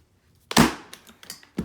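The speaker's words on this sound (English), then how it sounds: "I'm gonna take my staple gun." A staple gun fires once into stretched canvas while embroidery fabric is wrapped over it, giving a sharp, close snap followed by a couple of softer clicks and a final short knock.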